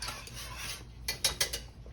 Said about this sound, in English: Let me stir my grits here.